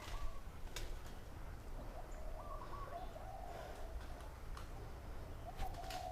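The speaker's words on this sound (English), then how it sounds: "Big birds." Large birds, pigeons or doves, cooing outdoors in Hawaii, soft repeated calls with a few chirps over a steady low background rumble, moderately distant.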